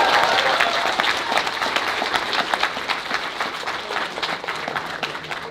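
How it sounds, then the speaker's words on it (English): An audience at a college 2D animation cartoon premiere bursts into loud, sustained clapping that stays strong for several seconds before easing slightly. "Audience, give us a round of applause."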